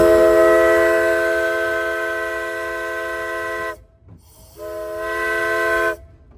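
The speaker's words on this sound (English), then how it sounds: "It's just something about that horn when he blows that steam horn and you're going through this redwood forest right here in Mendocino County." The Skunk Train's steam horn blows in a redwood forest in Mendocino County, a loud multi-tone chord sustained for several seconds, cut off, then sounded again briefly.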